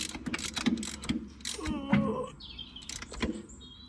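Ratchet clicks and metallic tool taps from tightening the last bolt on the back of a Massey Ferguson MF1250 tractor engine, in cramped quarters: irregular close clicks and knocks, with faint bird chirps in the background.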